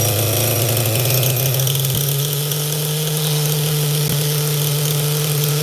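A 2000 Duratrax Nitro Quake nitro RC truck engine idles close and loud, a steady buzzing drone with a couple of brief clicks and no speech.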